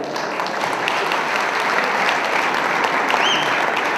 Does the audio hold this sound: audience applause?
yes